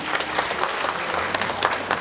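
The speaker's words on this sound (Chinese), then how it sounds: "掌声鼓励一下" Dense, steady clapping from an audience at a hair perming demonstration, a close continuous patter of many hands with no break for the full two seconds.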